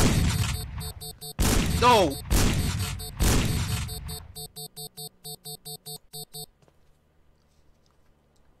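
Gunfire in the stealth video game Sneak Thief, a few heavy close shots amid a shouted voice, followed by a run of quick, evenly spaced electronic bursts that fade into near silence.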